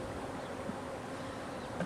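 Honey bees buzzing over an open hive during an inspection, a soft continuous drone at close range with no talking.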